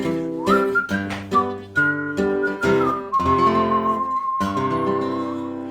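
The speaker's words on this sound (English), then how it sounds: "Whistle." A person whistles a melody solo, clear and close, with short phrases flowing into a long held note near the end.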